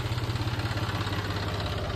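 A farm tractor idles just after being started, its engine giving a steady, close, low throbbing rumble with an even pulsing beat throughout.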